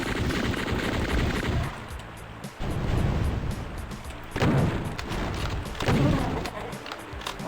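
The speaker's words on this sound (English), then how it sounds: "That is a goddamn turret." Turret gunfire in the Doom video game, a dense continuous barrage of rapid shots and booming impacts that stays loud and close throughout, with brief surges in intensity.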